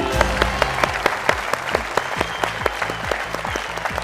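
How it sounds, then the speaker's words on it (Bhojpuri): A studio audience at a Bhojpuri quiz show bursts into loud, sustained clapping, with many sharp, distinct claps in a brisk rhythm throughout. No voices are heard. "सही जवाब, तालियां।"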